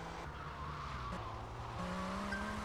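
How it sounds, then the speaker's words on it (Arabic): A car engine revs under steady, continuous tire squealing as the vehicle drifts in GTA: Vice City Stories, a loud synthetic racing sound with a rising engine note near the end. "لازم اسوي تفحيط صح"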